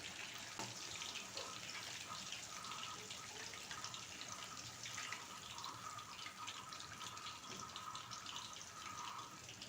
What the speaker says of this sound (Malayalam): ഇപ്പോൾ 4 പഴവും എണ്ണയിലേക്ക് ഇട്ട് കൊടുത്തിട്ടുണ്ട്. ഇനി ഇതൊന്ന് ഫ്രൈ ആയിട്ട് വരട്ടെ.